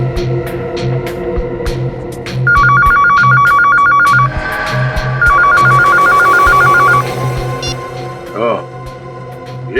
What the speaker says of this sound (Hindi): ये फोन है।